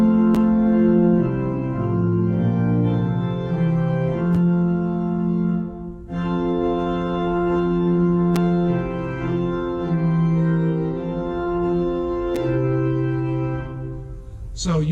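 A hymn played on a keyboard instrument, sustained chords with smoothly connected inner voices and a steady melody line, clear and continuous with no talking.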